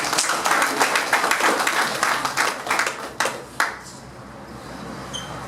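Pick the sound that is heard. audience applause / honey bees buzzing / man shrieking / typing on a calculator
audience applause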